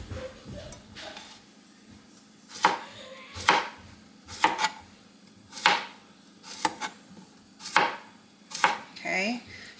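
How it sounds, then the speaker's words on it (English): A knife slices mini cucumbers into quarter-inch rounds for bread and butter pickles, about nine crisp cuts against a cutting board in an uneven rhythm, close and clear. "so I'm going to go ahead and start slicing this"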